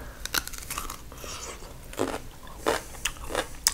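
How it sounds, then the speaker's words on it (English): A whole cucumber is shaved on the finest setting of a grater, producing soft, irregular wet crunching and scraping strokes in short bursts, close and fairly quiet with no speech. "Next, you're gonna shave it on the littlest setting. Shave the whole cucumber."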